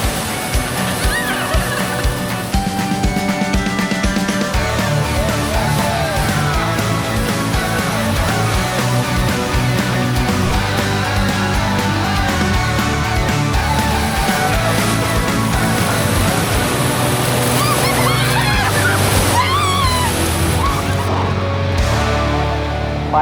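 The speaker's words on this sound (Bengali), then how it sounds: "ঢেউগুলো কত উঁচুতে আসছে।" High waves at Puri beach surge and crash close by, loud churning and sloshing water rolling on continuously, with faint voices mixed into the surf.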